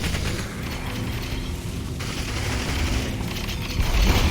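Frag grenade going off in the Population: ONE VR shooter, a dense rumbling burst that swells near the end amid steady battle noise, no talk.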